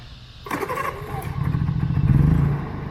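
A Honda RV generator is choked and key-started, giving a sharp clattering crank followed by the engine catching and settling into a rising, steady running hum up close.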